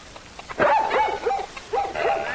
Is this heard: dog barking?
yes